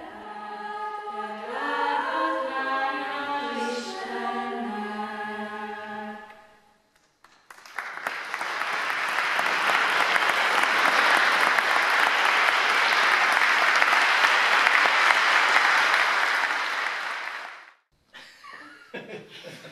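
A school choir sings in a cathedral, then stops. After a short pause the audience breaks into long, steady, warm applause that fills the resonant space for about ten seconds before ending abruptly.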